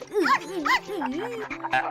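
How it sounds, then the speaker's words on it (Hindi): A cartoon pet dog gives a run of high, sing-song whimpers and yelping barks, rising and falling in pitch, close and fairly loud, with short yips breaking in near the end. "अंकल, आपका डॉगी तो बहुत ही अच्छा है।"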